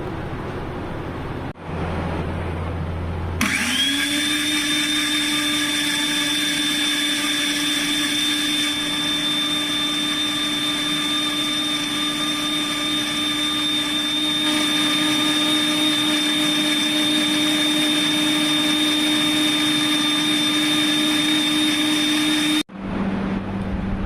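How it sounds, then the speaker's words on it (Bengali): An electric blender runs on onion in a kitchen, a steady loud whirring motor hum with a high whine that holds for about twenty seconds after starting up, then cuts off abruptly, with no talking. "পেঁয়াজ ব্লেন্ড করা হয়ে গেছে।"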